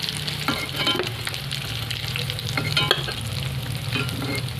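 Potol chops, pointed gourd shells stuffed with potato, sizzle steadily in hot oil while being stirred, with clinks and scrapes breaking through the constant close frying hiss.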